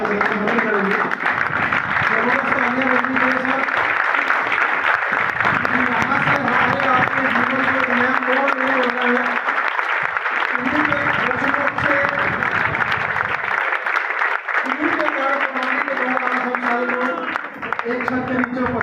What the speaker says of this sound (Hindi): एक बार खड़े होकर जोरदार तालियों से स्वागत करेंगे।